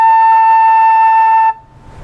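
A flute sustains a single clear A in its higher register, steady and bright for about a second and a half before cutting off into faint room noise.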